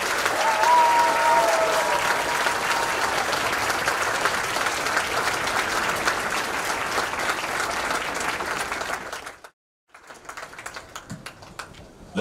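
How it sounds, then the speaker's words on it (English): A crowd at a Marine Corps graduation ceremony gives sustained applause for Company H staff, a broad dense clapping that runs for about nine seconds and then stops abruptly, followed by a few scattered claps and quieter ambient sound. "please join me in a round of applause for the company staff of Company H"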